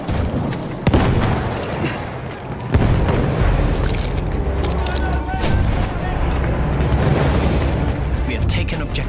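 A grenade detonates in a World War I shooter battle at Tahure, one sharp boom among further blasts and gunfire, all over continuous heavy battle noise while voices shout.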